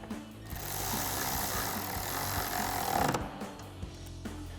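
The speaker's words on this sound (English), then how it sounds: "tighten that down with an 8mm socket" A bolt on the inside corner of a 2021-2023 F-150 upper grille area is driven tight with an 8mm socket, a steady close whirring run of a few seconds that cuts off sharply, followed by a light clunk.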